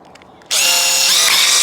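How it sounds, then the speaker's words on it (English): Power drill bores into a house wall during electrical work, kicking in abruptly after a brief quiet moment with a loud, steady high-pitched whine that holds for over a second, close to the listener. "So our next one, I'm going to be drilling about there."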